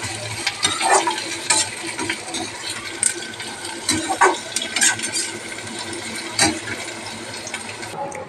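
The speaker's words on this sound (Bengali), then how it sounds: "দেখো তেলটা গরম হয়েছে, এবারে পেঁয়াজটা আমি ভেজে নেব।" Onion sizzles and fries in hot oil in a wok (kadai), a steady crackle with scattered scraping stir strokes and light clinks throughout, fairly close and loud with no talking.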